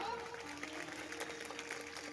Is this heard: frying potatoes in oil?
no